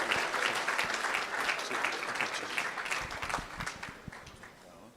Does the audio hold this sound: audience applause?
yes